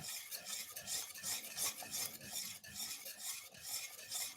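Butter and plain flour being stirred together in a pan for a white sauce, a steady scraping stir with a soft sizzle running continuously and close by, no voices.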